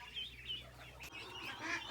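Ducks and chickens on a farm gather noisily around a pumpkin, with close, loud honking quacks and squawks repeating over the whole stretch.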